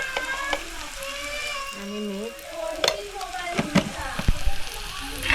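Chili powder and village turmeric hit hot oil in a tempering, giving a soft, close sizzle with sharp crackling pops that grow busier toward the end, while voices talk over it.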